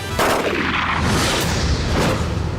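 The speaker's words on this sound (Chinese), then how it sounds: "否则我们就开枪了" A dense, continuous barrage of gunfire, loud and close, with overlapping shots blurring into a roar for a couple of seconds.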